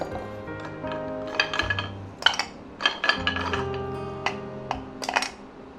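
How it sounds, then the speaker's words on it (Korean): Four or five ice cubes drop into a cocktail shaker at a home cocktail bar, making a run of bright clinks and glassy knocks in uneven clusters, close and fairly loud, with no talking. "쉐이커에 얼음을 4-5조각 정도 넣어줍니다"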